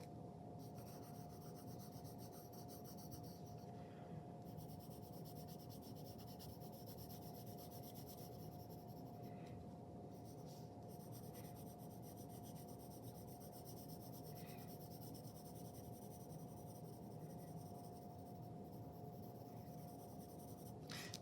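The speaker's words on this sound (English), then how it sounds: "you may need to switch to your H pencil, do some shading along this edge." Graphite pencils, B and H, shade on paper from dark to light, making a faint, steady scratching and rubbing that runs continuously and quietly without talk.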